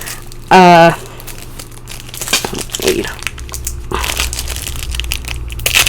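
Crinkling and tearing of a plastic Magic: The Gathering Jumpstart 2022 card pack wrapper being ripped open close up, preceded by a brief loud tonal burst, with a voice speaking faintly underneath.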